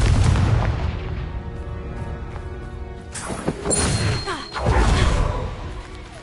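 Repeated heavy booms and crashing blasts from the Confringo fire spell in Hogwarts Legacy, loud and dense, with thuds and debris layered over continuous game noise.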